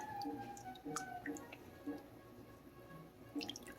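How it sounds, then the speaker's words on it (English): Goat milk curds scooped with a slotted spoon into a colander set in a bowl, giving soft, scattered drips and trickles of draining whey, faint and close. "I'm going to take my slotted spoon and I'm going to pull these curds"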